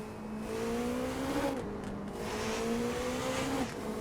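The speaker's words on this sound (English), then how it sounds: "So it's not sounding super beastly because it is a hybrid." A hybrid Le Mans race car engine at Daytona in the Rennsport racing game hums steadily and fairly smoothly. Its pitch climbs through the gears, with two clear upshift drops over a constant road and wind roar.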